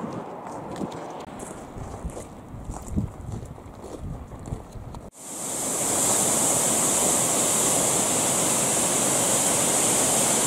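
Svartifoss, a 12-metre black waterfall in Skaftafell National Park, Iceland, roars as a steady, loud broadband rush of falling water. It cuts in abruptly midway after a quieter stretch of outdoor ambience.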